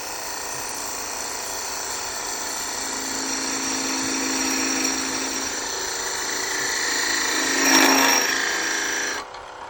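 A spindle gouge cuts a wooden lidded box spinning on a wood lathe, making a continuous scraping, rasping hiss that swells and shifts in pitch, with a brighter surge near the end before it stops abruptly.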